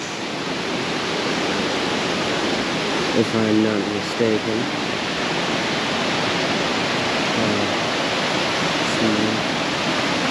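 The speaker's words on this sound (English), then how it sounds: "waterfalls right here" A waterfall beside the Sentinel Pine covered bridge roars with a loud, steady, close wash of rushing water, and someone talks briefly over it.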